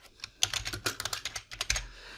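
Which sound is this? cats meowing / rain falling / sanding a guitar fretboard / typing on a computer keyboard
typing on a computer keyboard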